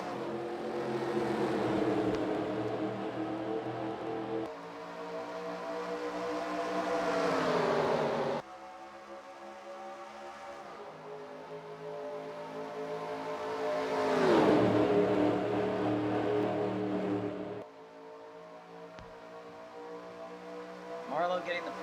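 Race cars in the iRacing game accelerate through the gears at Daytona, each engine tone rising then dropping sharply at shifts in a repeated pattern, steady and prominent under a commentator's voice.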